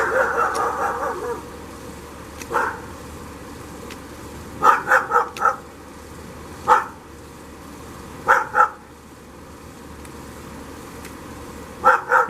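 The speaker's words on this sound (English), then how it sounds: "you hear in the background my neighbor's dog" A neighbor's dog barking in the background outdoors, scattered bursts of two or three barks at irregular intervals, moderately distant and clear over quiet ambience.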